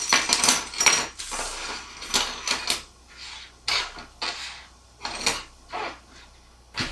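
Thin carbon fiber frame plates from a drone kit clack and rattle as they are handled, in a string of light, sharp knocks and taps with short pauses between them, close and fairly quiet.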